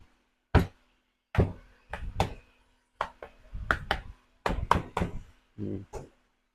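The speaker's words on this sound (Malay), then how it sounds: "So nak buka ni dia kena ketuk sikit." A DCA hammer drill housing is knocked to open it, giving a series of sharp, close taps in irregular single and paired hits with silent gaps between them.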